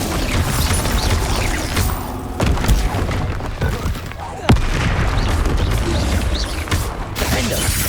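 A Confringo blasting spell detonates in the Hogwarts Legacy game with a sudden booming explosion amid a busy, dense stream of combat effects and rumbling impacts.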